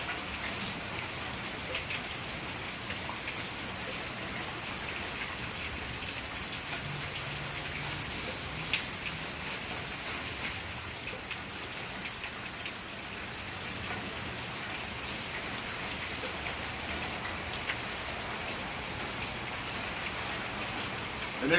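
Rain falling steadily outdoors during a hammock and tarp setup, a dense constant hiss of drops on surfaces with a few louder patters, close and unbroken, no talking.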